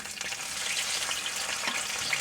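Okra sizzles and crackles in hot oil in a skillet, a steady close-up frying hiss with small pops.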